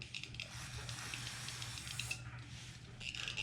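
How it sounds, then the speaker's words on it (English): A steady hiss of aerosol cleaner sprayed into a generator carburetor runs almost continuously, with brief pauses and short bursts, fairly close and fairly quiet. "Again, I'm just spraying it through one more time."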